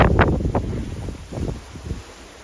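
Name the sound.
wind at sea on a sailboat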